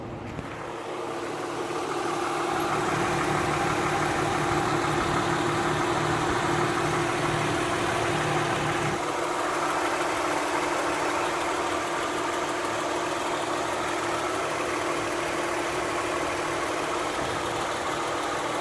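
The engine of a 2009 Lexus RX 350 idles before an oil change and engine flush, a steady low hum with a faint knocking texture that holds evenly throughout with no talk.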